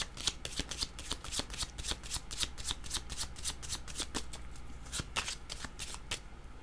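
A deck of tarot cards is shuffled close up, producing a quick, soft flutter of riffling and clicking card edges with no talk.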